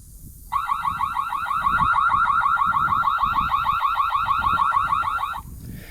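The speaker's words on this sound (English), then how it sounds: "this alarm sound could be used for if you want to scare away an animal" A Magic Eagle cellular trail camera sounds its alarm, a loud, rapidly pulsing electronic warble that runs steadily for about five seconds over low background rumble, then stops.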